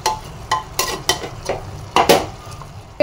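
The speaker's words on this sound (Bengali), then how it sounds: "তো চিকেনটা একটু নেড়ে নেব।" About 600 grams of chicken is stirred in a pan for a chicken dish, repeated scraping strokes of a utensil over a soft sizzle, loud and close, roughly eight distinct scrapes in a few seconds.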